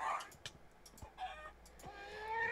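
An abyssal class evil chicken in Minecraft Project Ozone 3 gives faint clucks and short fowl calls, with scattered game clicks and thumps around them.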